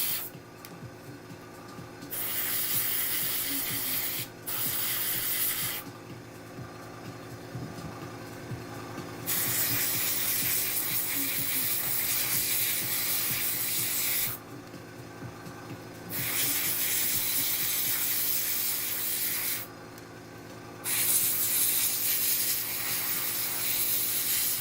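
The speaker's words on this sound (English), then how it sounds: "that concludes the airbrush" An airbrush sprays paint onto model parts in repeated hissing bursts, a soft steady air rush that cuts off briefly between passes, close and fairly quiet over a low background hum.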